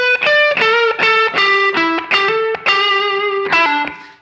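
A slow blues lick in E on a distorted electric guitar, roughly a dozen sustained, singing notes played one after another up close and loud, with no talking.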